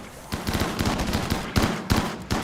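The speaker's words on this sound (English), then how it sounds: "A lot of shotguns just kind of coming at you." Shotgun blasts in a video game firefight, a rapid string of sharp, loud booming shots cracking close together for the whole stretch, some bursts heavier than others, with no talking.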